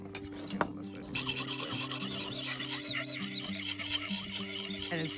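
A beveled edge of a hand tool is sharpened with continuous gritty rasping and rubbing strokes, close and fairly loud, with squealing tones running through the grinding.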